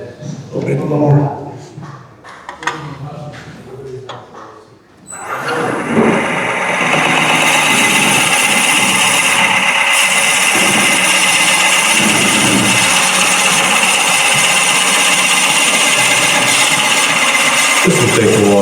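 Wood spinning on a lathe as a turning tool cuts shavings, a steady loud whirring hum with scraping texture that starts after a few seconds of talk and runs on unbroken, a voice speaking over it.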